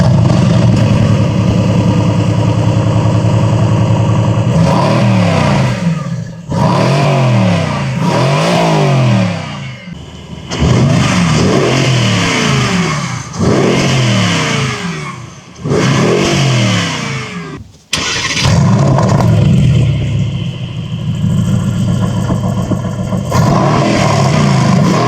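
A Mercedes-AMG GT sports car engine revs hard again and again, each surge climbing in pitch and then dropping back between bursts, loud and close.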